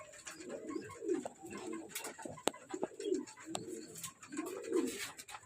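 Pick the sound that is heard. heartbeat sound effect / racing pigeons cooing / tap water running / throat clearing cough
racing pigeons cooing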